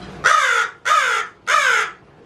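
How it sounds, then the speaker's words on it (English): Three loud, harsh caws from a nearby crow, evenly spaced with short pauses between. "And there's the crows."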